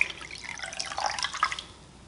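Water drips and trickles from a freshly dyed copper-and-teal yarn cake as it is squeezed by hand, a short, faint patter of drops with no talking.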